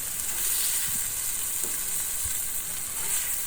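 Hamburger patties fry on a flat griddle, a quiet even sizzle with a few soft scrapes and taps, no one speaking.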